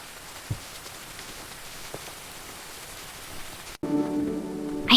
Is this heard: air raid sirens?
no